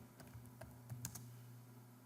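Quiet typing on a computer keyboard, a short run of soft, irregular key taps over a faint steady background hum.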